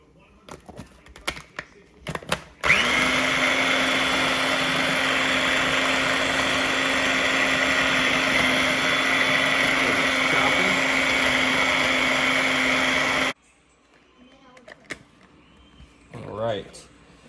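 A blender purees onions for a homemade chili, a loud, steady whirring drone running unbroken for about ten seconds before cutting off abruptly, with brief talk before and after.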